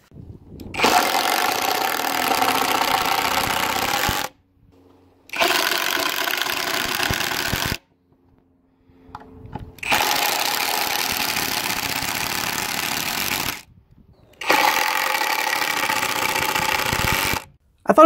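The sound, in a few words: Kimo brushless impact driver running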